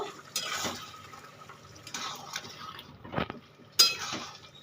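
A spoon stirs mung dal in a cooking pot, producing a few scattered scraping and clinking strokes with soft, wet sounds, close and fairly quiet, with no talking.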